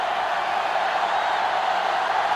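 A steady, dense stadium crowd roar fills a televised-style college football broadcast in the NCAA Football 2005 video game. The noise holds even and loud for the whole stretch, with no distinct voices rising above it.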